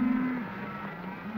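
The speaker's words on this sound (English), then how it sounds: "Sure taking a lot of weight off them cattle." A herd of cattle being driven along a trail lets out a low, drawn-out moo over a dense rumble of hooves and movement, fairly close and loud, in a 1936 western.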